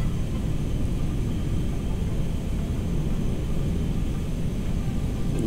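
A Lockheed L-1011 TriStar airliner in GTA 5 takes off heavily loaded from runway 33, a steady broadband jet roar and low rumble that holds level throughout.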